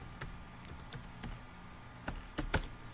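Keyboard typing while writing a blog post, a sparse series of soft keystroke clicks with a quicker cluster near the end, quiet and close with no voices.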